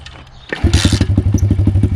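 A pit bike fitted with a cheap aftermarket eBay slip-on muffler fires up and settles into a loud, close idle, its exhaust pulsing in a steady, throaty rhythm of regular thumps.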